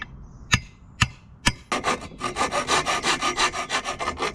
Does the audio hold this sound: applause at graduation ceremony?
no